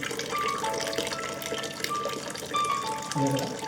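Alkaline water pouring from a Water Guard water ionizer in a house, a steady nearby rush of flowing liquid with someone talking over it.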